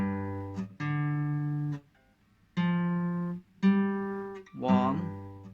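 A slow lead guitar phrase picked with all downstrokes gives a handful of separate sustained notes with brief gaps between them, close and clear with no talking.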